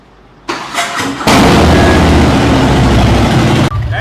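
A superbike engine cranks briefly, catches, and fires into a loud, steady idle close by, then cuts off abruptly near the end.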